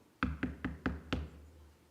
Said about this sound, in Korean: 두드리고 계신데요.